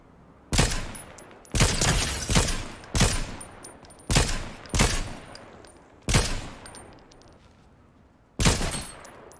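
Video game gunfire in Fortnite: about seven loud, sharp shots spaced irregularly across the clip, each with a quick decay into a faint background hum, no voices.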